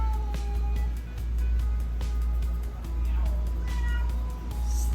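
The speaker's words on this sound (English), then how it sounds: "that was the cat" A cat meows a few times over a low steady hum, with faint kitchen clatter in the background.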